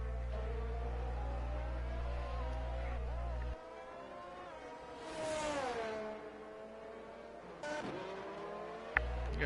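Racing cars roaring through a video game race in the USA round, several engines revving and shifting with rising and falling pitch as cars pass and brake, plus a brief tire squeal near the end.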